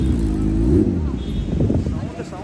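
A Kawasaki ZX-10R sport motorcycle engine roars up in pitch as it revs and passes close by on a Bangalore street at night, with people talking excitedly over it.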